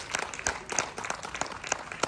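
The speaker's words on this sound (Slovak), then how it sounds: "toto je potlesk aj pre teba" A theatre audience gives the Teatrálna skratka company a standing ovation, with dense, continuous clapping from many hands filling the room.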